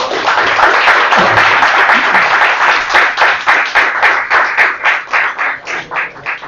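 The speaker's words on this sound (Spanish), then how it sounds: "démosle un aplauso por favor" An audience claps loudly and steadily after a lecture, then the applause thins into slower, rhythmic clapping.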